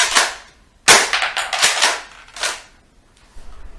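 Homemade DIY bug-killer gun firing rounds in test shots: a handful of sharp, loud snapping pops spaced irregularly, each with a brief noisy tail, and no talking.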